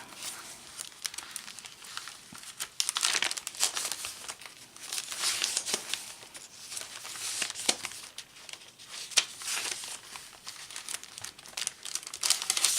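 Crinkly glassine bag and paper ephemera being handled for a handmade journal, giving continuous close crackling and rustling with sharper crinkles throughout, no voices.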